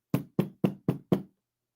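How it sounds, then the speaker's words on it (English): Five sharp, evenly spaced knocks sound on an apartment door, close and loud against silence, each thud short with a brief decay. "that knock sounds so familiar"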